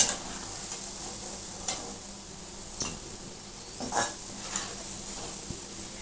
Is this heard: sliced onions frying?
yes